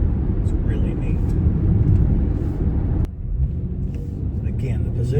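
An Acura ZDX Advance cruises at 60 mph, a steady low road and engine rumble with tyre noise inside the cabin and a faint voice over it.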